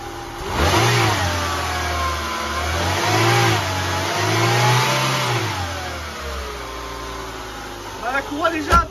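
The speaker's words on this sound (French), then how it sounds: "On va accélérer quand même parce qu'on a une accélération qui fait que..." Peugeot 206 TU petrol engine with a freshly replaced timing belt, revving up and down in steady swells from a smooth idle, close and fairly loud, with a brief spoken voice near the end.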